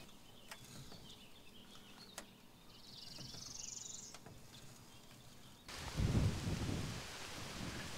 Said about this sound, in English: we're going to wait for this rain to stop